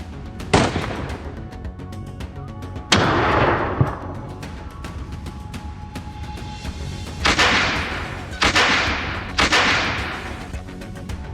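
Several loud, sharp gunshots spaced a few seconds apart, some with rolling echoes, over a steady helicopter drone, fired from a helicopter during a wild boar hunt in Texas.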